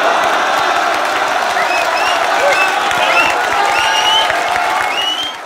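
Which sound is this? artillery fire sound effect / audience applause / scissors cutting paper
audience applause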